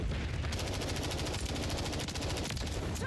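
Sustained rapid automatic gunfire from Call of Duty: Modern Warfare 3 multiplayer, a dense continuous burst of loud shots with no pauses across the whole stretch.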